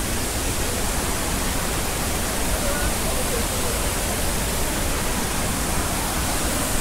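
Steady, dense roar of Kattikkayam waterfall in Kerala, close by and loud, a broadband wash of falling water that holds unbroken throughout with no other sounds on top.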